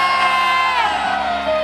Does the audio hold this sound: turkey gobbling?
no